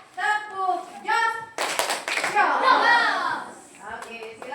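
Schoolchildren in an Indonesian classroom give a short rhythmic 'tepuk jos' clap together, a burst of hand claps near the middle set between spoken voices before and after.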